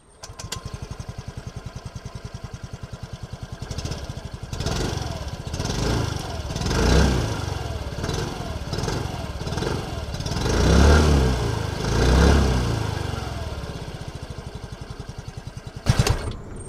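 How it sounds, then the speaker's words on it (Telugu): Yamaha Ray ZR 125cc scooter starting quietly and running at a steady close idle, with a few brief throttle rises in the middle and a short sharp clatter near the end; no talk. "సైలెంట్ స్టార్ట్ చూడండి స్మార్ట్ మోటార్ జనరేటర్ ద్వారా"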